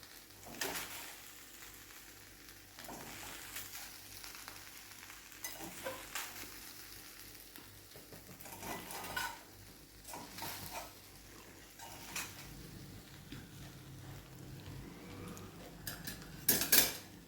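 A spoon scrapes and stirs Schezwan fried rice in a pan over a faint sizzle, with irregular metallic clinks and a louder clatter near the end, no talking.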